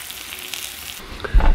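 Food sizzling in a cast iron frying pan set on a Petromax fire bridge, a steady close hiss and crackle that swells into a louder burst at the end.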